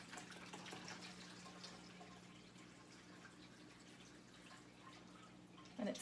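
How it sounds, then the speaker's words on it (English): Water poured into a fish tank's filter trickles and drips steadily through it in a quiet indoor room, a soft continuous splashing over a low hum, with a brief louder knock at the end. "So I pour the water in here."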